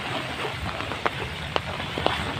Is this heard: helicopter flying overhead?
no